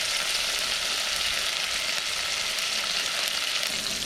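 Onions with ginger garlic paste frying in a pan for egg biryani, a steady close sizzle that hisses evenly throughout with no talking.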